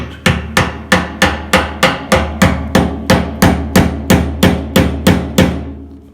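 Sharp, evenly spaced hammer blows on a screwdriver while installing a gas tank on a 1976 Ford F150, about fifteen metallic strikes in a steady rhythm, loud and close with no talking.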